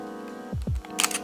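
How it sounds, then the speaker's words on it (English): A Fujifilm X-T50 camera fires its mechanical shutter once, a quick, close double clack followed by a bright click, in a quiet room. "The shutter sound on the X-T50, listen to this."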